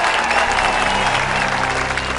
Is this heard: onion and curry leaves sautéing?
no